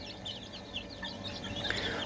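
Chicks and chickens in a backyard coop eating household food scraps, with soft clucks and chirps over a steady low murmur of the flock, faint and continuous with no voices.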